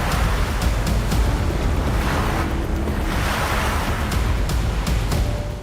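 Sea waves surge and wash continuously around a boat near an island coast, a loud, steady roar with wind buffeting the microphone and no break throughout.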